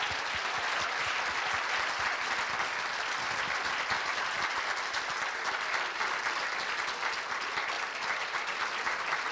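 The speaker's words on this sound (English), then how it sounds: "Another round of applause, please." Audience applause at an interfaith dinner in Scottsdale, Arizona, honouring a departing guest: dense, steady clapping that fills the room at an even level and holds throughout without a break.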